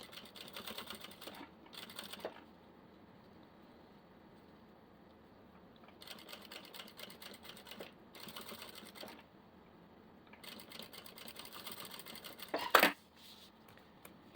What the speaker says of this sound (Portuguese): Vou passar uma costurinha bem na beiradinha